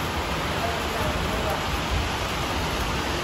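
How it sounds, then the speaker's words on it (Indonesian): Heavy rain pours down at a highway rest area, a dense steady hiss of falling water that fills the whole moment without a break. "Lebat banget hujannya."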